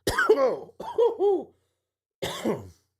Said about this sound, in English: Sorry to cough.